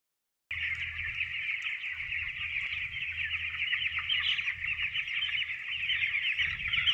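A flock of chickens in a poultry pen clucks continuously, a dense, steady chorus of overlapping calls that starts abruptly and holds at an even, moderate level.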